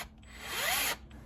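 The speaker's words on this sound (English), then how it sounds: "Next thing we're gonna do is drill through this top right here in the center, through the mat, as well as the actual top of your dash" An angle drill with an 11/16 bit bores through a rubber dash mat and the top of a vehicle dashboard, one short, loud, steady whine of about a second, up close with no talk.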